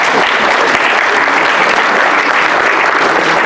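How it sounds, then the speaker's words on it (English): A crowd claps in loud, sustained applause, dense and even throughout the short clip. "Another round of applause."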